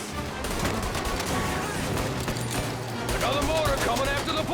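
Rapid gunfire in the video game Mafia: Definitive Edition crackles continuously during a car chase under a dense, busy game soundscape, with bursts of automatic shots and engine rumble throughout.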